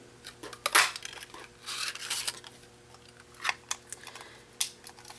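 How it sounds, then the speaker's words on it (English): A 2-inch circle punch cuts through paper, heard as several crisp crunching snaps and rustles of paper handling at irregular intervals, close up, over a faint steady hum with no voices. "And then use my 2-inch circle punch"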